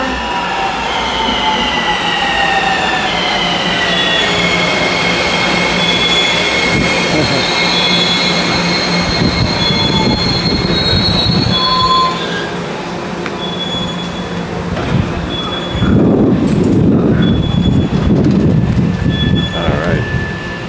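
The Skyline train in Hawaii rolls into a station, its wheels squealing in high drawn-out tones over a heavy, steady rumble, loud and close throughout.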